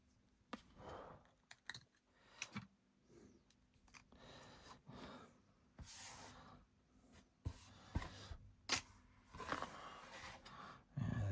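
Paper card pieces for a Christmas card trimmed by hand, with a series of short, close cutting and rustling sounds, several sharp snips and paper handling, fairly quiet with gaps between.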